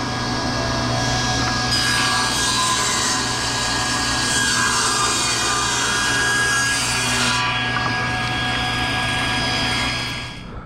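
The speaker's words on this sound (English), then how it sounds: "We want the jointed edge against the fence as we cut." A table saw rips a wooden board along the fence, a loud continuous whining cut with a steady motor hum that runs for about ten seconds before easing off at the end.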